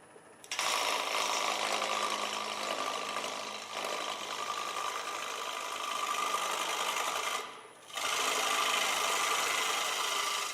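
A wood lathe turns an off-center square glue-up bowl, its motor giving a steady, loud whirring hum close by that briefly dips near the end before resuming; no one speaks.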